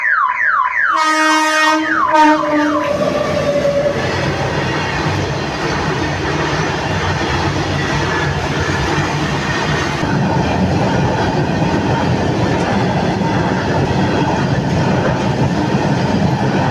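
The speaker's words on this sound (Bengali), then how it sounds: "ডাউনে ট্রেনের শব্দ শোনা যাচ্ছে," A distant down train approaches a quiet Indian Railways level crossing gate on a cold night, sounding steady horn blasts before a loud, continuous rumble with clattering wheels that fills the remaining time, no voices.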